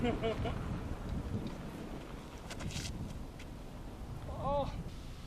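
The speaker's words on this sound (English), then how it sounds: "So windy." Steady wind rumbles and buffets against the microphone throughout, with brief faint sounds and a short chirp near the end.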